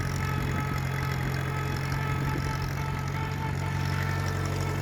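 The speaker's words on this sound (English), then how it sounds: "That gear whine's a lot louder on camera than it is in person." An Allis Chalmers B tractor on a test drive runs with a steady low engine drone and a constant gear whine, loud and close throughout, with no talking.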